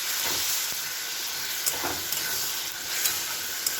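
Shrimp fry in a spice masala in a pan with a loud, close, steady sizzle, marked by several quick scraping and tapping strokes of a stirring utensil.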